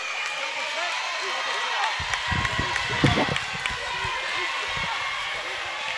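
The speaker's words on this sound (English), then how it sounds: "Now the Carolina crowd getting intense." A Carolina Flames summer-invite basketball game crowd grows loud and restless, a steady roar of voices with scattered shouts and sneaker squeaks, louder bursts around the middle of the scene.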